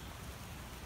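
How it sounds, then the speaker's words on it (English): Light sprinkling rain falls outdoors, a faint, even hiss of drops steady throughout the short moment with no voices. "It's already starting to rain again. It's like sprinkling right now, actually."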